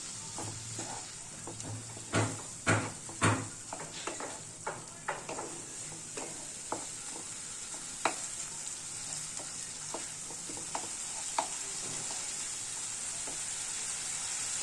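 Jackfruit kofta curry fries hard with green chili paste in a pan, a constant sizzle broken by sharp stirring scrapes and knocks that are densest at the start and thin out later.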